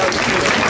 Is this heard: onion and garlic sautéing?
no